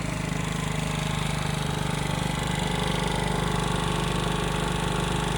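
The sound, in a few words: Wolf RX-50 50cc moped engine idling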